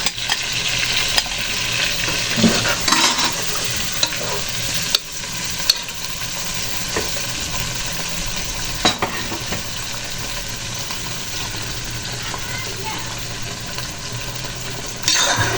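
Marinated beef for biryani sizzles loudly in hot oil in a pot, a dense continuous frying hiss broken by scraping clicks of stirring.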